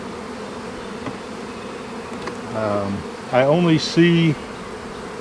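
Honeybees buzz softly around a weak hive coming out of winter on the edge of starvation, a faint steady hum with a few louder passes up close, while a person talks briefly.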